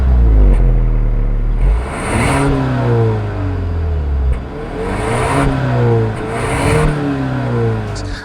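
A 2024 Genesis G70 with the 2.5-liter turbocharged engine revs hard several times, close and loud. The pitch climbs and drops in repeated waves, with brief crackling between pulls.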